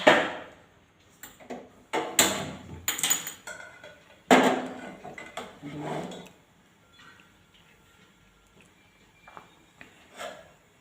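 A pot of butter for making ghee is set down on a gas stove with several loud, close clanks and knocks of metal. Quieter shuffling handling noises follow.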